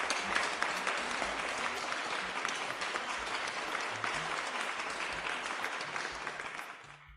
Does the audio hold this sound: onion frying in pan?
no